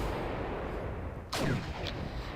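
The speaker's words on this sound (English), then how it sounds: "I can afford to take my time and have the guns shooting for longer periods." Artillery guns fire during a video game mission, with one heavy distant boom rolling out over a steady background rumble and a fainter second report just after.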